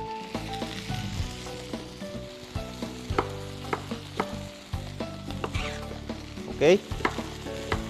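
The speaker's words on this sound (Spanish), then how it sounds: "Añado las cebollas. Voy a saltear. Voy a añadir ajo." Garlic and onions sautéing in a pan, a steady close sizzle with stirring scrapes and utensil knocks, plus a brief spoken word.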